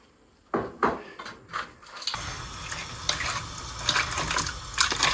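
Water poured from a glass into a pan of crab curry, several soft clinks first, then a close, splashing pour that continues unevenly with small bursts.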